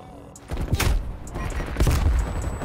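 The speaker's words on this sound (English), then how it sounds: "Hostile sentry turret active." A hostile sentry turret fires in the Call of Duty Cold War video game, rattling off bursts of rapid gunfire with booming thuds that surge and ease over a few seconds.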